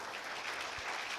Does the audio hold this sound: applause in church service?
yes